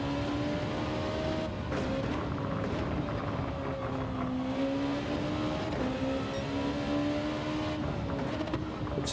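Race car engines in Gran Turismo 7 lobby racing hum steadily at moderate loudness, a sustained tone that rises and dips as the cars drive, no talking heard.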